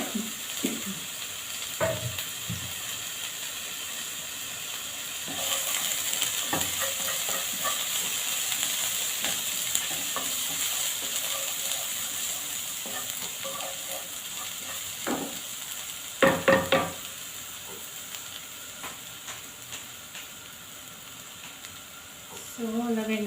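Spinach stirred in a hot frying pan, a steady sizzle and hiss running throughout with intermittent scraping stir strokes and a few louder clatters near the end; no one speaks over it.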